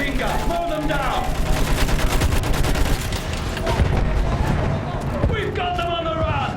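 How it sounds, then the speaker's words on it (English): A machine gun fires in a trench battle scene, rapid dense bursts of shots rattling loudly for several seconds while voices shout over the gunfire. "Use that machine gun! Mow them down!"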